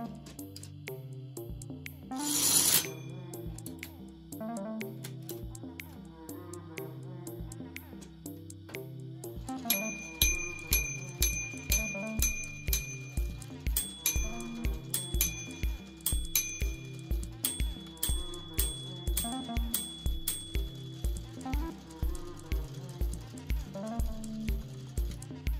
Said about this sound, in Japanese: 7時51分を示す音が鳴りました。